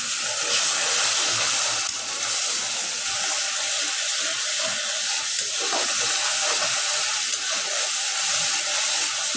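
Spice paste with dry chili powder sizzles steadily in a hot pan for a fish curry with potatoes and stalks, a continuous close hiss and crackle with no talk.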